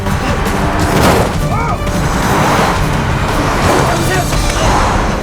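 A car races through a chase scene in the Korean film Confession of Murder (2012), with loud engine noise, crashes and heavy impacts throughout, beneath busy voices and dramatic film sound.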